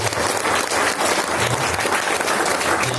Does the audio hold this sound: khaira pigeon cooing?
no